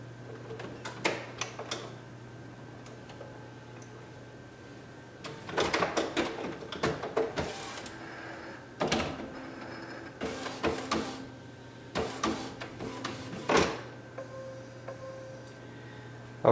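An Epson WF inkjet printer fitted with a continuous ink system, its cartridge carriage shuttling back and forth in bursts of mechanical whirring, clicking and ticking over a steady low motor hum, fairly close by with no talking.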